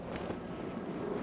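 A telephone rings in Batman: Arkham City, a steady electronic ring sitting amid dense game ambience, moderately loud and continuous through the short stretch.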